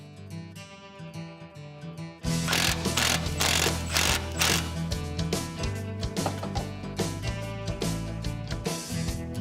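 A ratchet wrench tightens bolts on a vehicle conversion plate in a workshop, with quick bursts of close, loud clicking that repeat in an irregular rhythm after a quieter opening.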